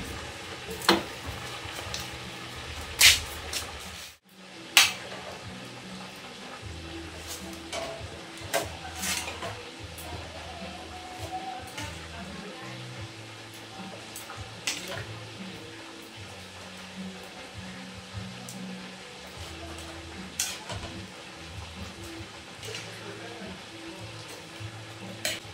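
Ginataang hipon, shrimp simmering in coconut milk, is stirred in a pan, giving a steady low bubbling and scraping with occasional sharper clinks over about twenty-five seconds, close and moderately loud.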